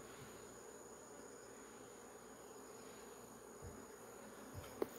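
Native Korean honeybees hum at a hive, a soft steady drone of many insects close by, with a couple of brief louder bumps near the end.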